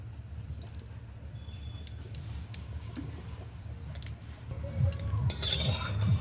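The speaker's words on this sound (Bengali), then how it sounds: "তেলটা একটু চাড়িয়ে দেব" Mustard oil being stirred in a wok over a village stove, heard as a low steady background rumble with light metallic scrapes and taps, growing louder and brighter in the final seconds.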